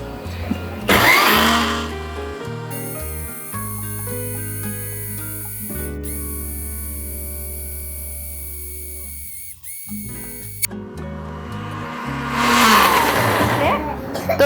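A blender churns peri peri sauce with white vinegar added, a loud motor hum that stops and restarts, with bursts of louder blending noise at the start and end; no talk.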